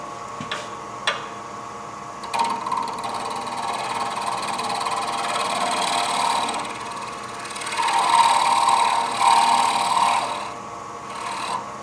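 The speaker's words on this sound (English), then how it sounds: "I use a 2-inch radius carbide chisel for turning this down to the final size" A 2-inch radius carbide chisel shapes wood on a lathe while turning a small jewelry piece: a steady whirring motor drone with continuous scraping and rasping, swelling louder toward the end, with no talking.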